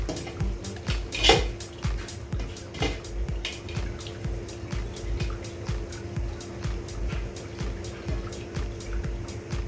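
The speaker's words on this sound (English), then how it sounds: "So that's got a nice boil going there now." Beer wort for a pilsner boils in a pot at a steady rolling bubble, with soft repeated pops and clinks of metal close by and no talk.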